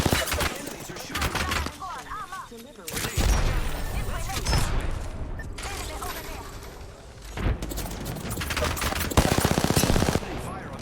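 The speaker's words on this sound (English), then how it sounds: "Enemies are shooting." Video game shooter firefight with sustained automatic gunfire, dense rattling bursts broken by short gaps, loud and close, with talk mixed in beneath the shots.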